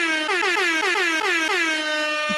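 Air horn blasts ring out in quick successive bursts, loud and continuous, with no voices around.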